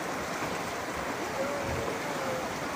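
Rushing floodwater from a swollen river during a night river crossing on a mountain hike, a steady broadband roar that stays loud and constant throughout with no pauses.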